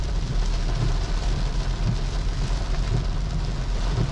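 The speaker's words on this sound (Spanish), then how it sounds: "voy a esperar un poquito que pare de llover." Rain falls steadily on a street in Tulum near the beach, a constant soft hiss with a low rumbling undertone and no voices.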